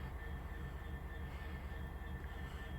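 A Class 66 diesel locomotive idles nearby, a steady low rumble with a throbbing engine beat and a faint high whine that holds constant throughout.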